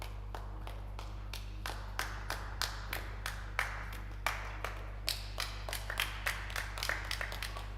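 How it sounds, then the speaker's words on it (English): Scattered, slow clapping from spectators in a pool arena during the semifinal of a nine-ball tour event, a steady series of distinct claps over a constant low hum, moderately distant with no talk. "A lot of clapping going on"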